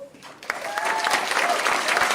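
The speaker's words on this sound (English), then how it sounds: "give you all a raucous round of applause" A crowd at a business hall of fame event claps steadily, the applause building and holding, with a few voices mixed in.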